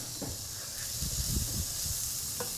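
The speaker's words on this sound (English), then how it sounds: "So we've got our finely chopped red onion. And you can hear a little sizzle as it goes in." Finely chopped red onion hitting a hot pan for a chickpea curry gives off a gentle, steady hiss and sizzle, soft and continuous with faint crackles throughout.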